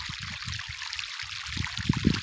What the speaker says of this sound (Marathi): आता तर पाणी आता सोडले आज